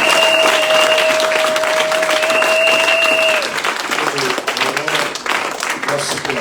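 A church congregation bursts into loud, sustained applause acclaiming the Lord, dense clapping filling the room and then tapering as voices and a whistle-like tone mix in.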